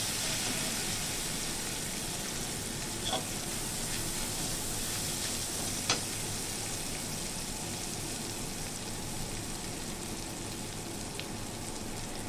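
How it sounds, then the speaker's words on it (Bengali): Ground spices for a pomfret curry fry and bubble with a splash of water in a pan, giving a steady, even sizzling hiss throughout with a couple of faint clicks of stirring, no voices. "জল দিয়ে নাড়াচাড়া দিয়ে মশলাটা একটু কষিয়ে নেব।"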